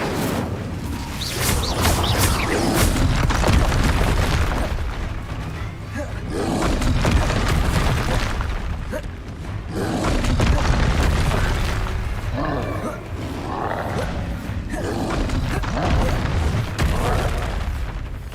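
Confringo and Incendio spells explode in Hogwarts Legacy, heavy booming blasts and fiery bursts rolling almost continuously, loud and dense, with a voice now and then underneath.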